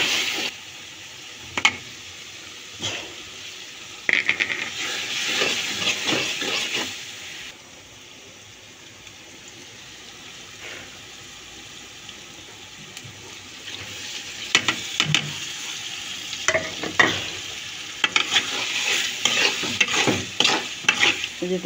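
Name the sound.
shrimp stir-frying in a pan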